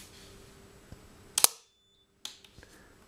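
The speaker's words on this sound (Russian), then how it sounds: "Отключился отходящий автомат." An outgoing three-pole circuit breaker trips under a 375-ampere current during a selectivity test, giving one sharp, loud mechanical snap with a brief rattle. A short silence follows, then a second fainter click and small knocks, with no talking.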